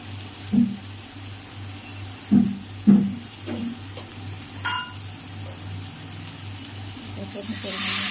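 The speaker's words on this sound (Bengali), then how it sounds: "জল দিয়ে দিলাম।" Water is poured into a fish curry pan where the oil has separated, and a bright hiss swells up at the end after a few short voice-like sounds and clatters.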